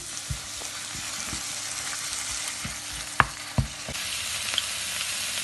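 A meat filling for pastelles sizzles steadily in a pan as it cooks down, with a soft, even frying hiss broken by a few light knocks of a utensil.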